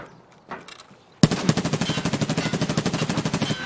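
Automatic gunfire in Escape From Tarkov: after a quiet moment, a loud sustained burst of rapid, evenly spaced shots hammers away close up until the end.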